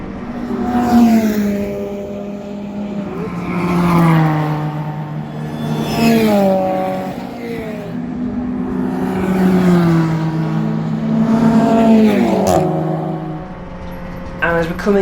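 Race car lapping Oulton Park, its engine revving up and down through the gears in repeated loud sweeps, close and continuous from the driver's seat.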